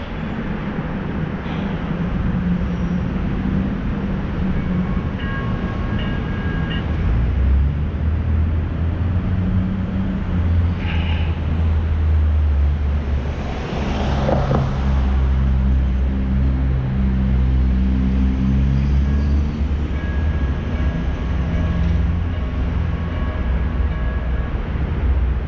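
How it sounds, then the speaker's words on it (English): A train rolls past a road crossing, a steady low rumble of wheels and cars building and holding loud for the whole stretch, with faint crossing tones and passing traffic mixed in. "Should be getting a green with this train coming."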